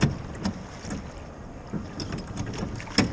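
Oars of a rowing boat dip and splash rhythmically in water at the Salina Turda salt mine, a few soft strokes spaced about a second apart, with wind noise buffeting the microphone.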